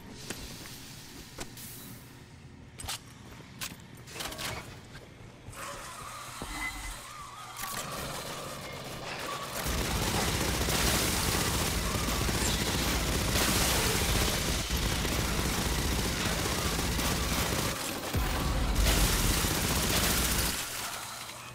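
Machine gun fire in Aliens Fireteam Elite rattles in scattered bursts early on, then blends into a dense, loud wash of continuous shooting and combat noise.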